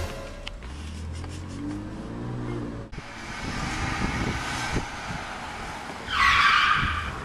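A car drives and skids along in a game, engine noise steady throughout with a sharp, loud tire-squeal burst near the end; a voice speaks briefly at the start.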